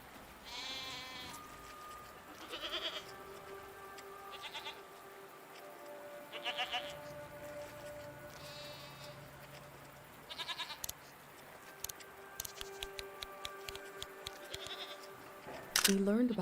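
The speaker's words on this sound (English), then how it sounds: "What are these strange goat-like creatures? Are they simply goats?" Goat-like creatures in a video game give short, faint bleats at irregular intervals over a soft ambient background, with a sharper burst near the end.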